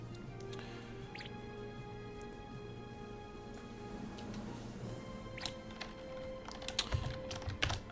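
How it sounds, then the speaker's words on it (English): Steady typing on a computer keyboard, a continuous patter of soft close key clicks that gets a little busier and louder toward the end, with a low hum underneath. "I'm typing this down for right now"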